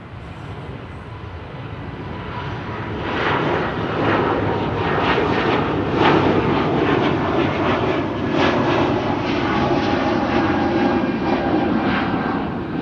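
Swiss Airbus A220 jet taking off from runway 09 at Amsterdam Schiphol Airport, a broad, steady engine roar that swells after a few seconds and holds loud and distant, with no voices.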